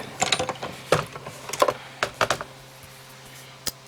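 Cardstock fed through a die-cutting machine produces a series of close mechanical clicks and ratcheting clunks in irregular bursts, followed by a quieter pause and one last sharp click.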